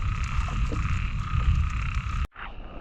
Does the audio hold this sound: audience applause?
no